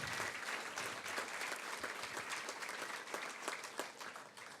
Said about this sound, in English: would you give these three wonderful people a round of applause?